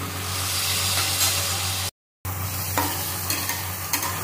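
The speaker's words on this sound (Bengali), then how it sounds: "তো আমি এখানে গরম জল দিয়ে দিচ্ছি।" Hot water hits a pan of stink lily yam frying in spices with prawns, producing a loud, close sizzle and hiss, broken by a brief gap and then continuing with scraping stir sounds.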